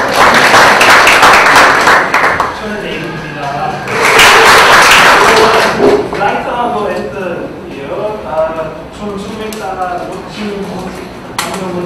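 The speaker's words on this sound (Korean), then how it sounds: "박수로 맞이해주시죠." A seminar audience on presentation skills bursts into applause twice, loud and sustained, with a host speaking between and after the rounds of clapping.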